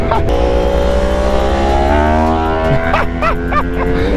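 Yamaha MT-10 1000cc naked motorcycle accelerating hard in a power wheelie, its engine note rising steadily in pitch as it pulls away, loud and sustained with a faint shift near the end.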